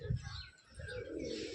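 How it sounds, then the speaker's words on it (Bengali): A pigeon perched on a rooftop tower coos in low, soft, rolling phrases. A brief louder burst comes early, then a steadier murmur continues through the rest of the moment against faint background hiss. "এই দেখো পায়রাটা"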